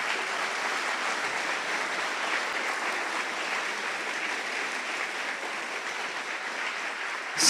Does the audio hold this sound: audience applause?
yes